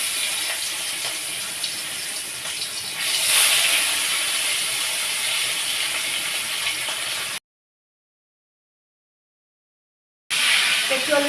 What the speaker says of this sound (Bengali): আর এই যে এখানে ভাত ফুটছে দেখুন